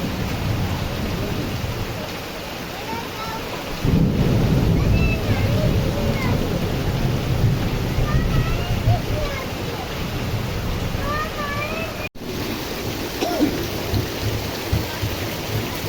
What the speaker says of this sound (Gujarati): હજી કડાકા ને ભડાકા ભેગું ચાલુ જ છે।